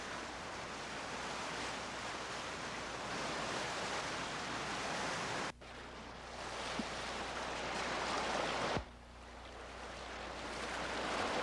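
Roaring whitewater on the Kennebec River during a rafting trip, a steady broadband rush of rapids that stays loud and close throughout, with a couple of sudden thumps as the raft jolts.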